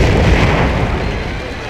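Battleships shelling a city in the strategy game Civilization 5, a loud, dense rumbling barrage of heavy naval gunfire that rolls on steadily through the moment with only a slight fade.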